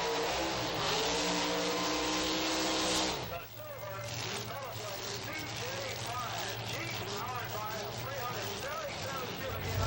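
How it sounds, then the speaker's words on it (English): A big block Chevrolet-powered 27T roadster at a drag race, loud roaring engine that drops off partway through to a lower idle-like drone, with an announcer talking over it. "Carol Hines in the 27T Roadster, powered also by a big block Chevrolet."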